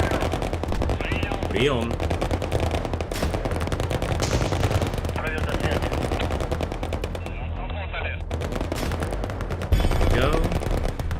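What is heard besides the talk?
gunfire in a counterinsurgency wargame video game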